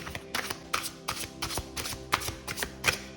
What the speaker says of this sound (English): give the cards a quick shuffle